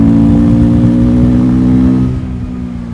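A 2024 KTM 390 Adventure single-cylinder engine held at high revs around 4,000 RPM, a loud steady close drone that eases down slightly near the end, with no voices.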